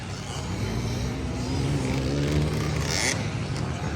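Enduro motorcycles racing in a local motocross final heat at the Kaamulan Festival, a loud, continuous engine drone with rising and falling revs and no talk.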